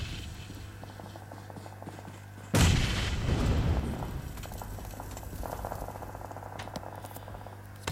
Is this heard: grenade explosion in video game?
yes